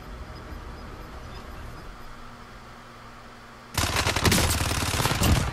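Gunfire in Call of Duty: Warzone, a sudden loud sustained burst of rapid automatic shots starting after several seconds of quiet ambient game noise and continuing to the end.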